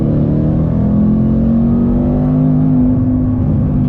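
A supercharged 2024 Ford Mustang accelerates hard, its engine droning loud and steady with a rising whine and rumble throughout.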